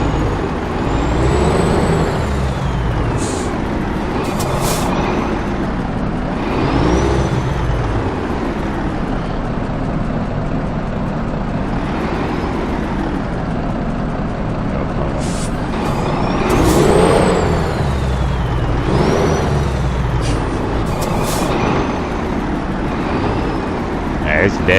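A truck in American Truck Simulator rumbling and shifting as it moves, with air-brake hisses and a rising and falling engine drone. Someone talks over it.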